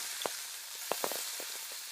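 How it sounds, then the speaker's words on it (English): Steady, close crackling sizzle of shrimp searing in a hot pan, with scattered sharp pops and spits over a constant hiss. "you want that nice sizzle to come off of it"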